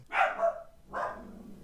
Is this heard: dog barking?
yes